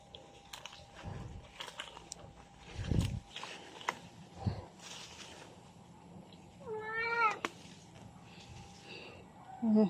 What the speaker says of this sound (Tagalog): Dito yung pusa ko, oh.